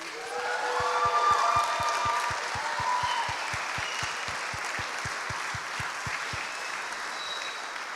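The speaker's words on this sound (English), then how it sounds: "Can we give them a massive round of applause, please?" An audience claps steadily for the full stretch at a birthday live stream, a dense even wash of applause at moderate loudness with no voices standing out.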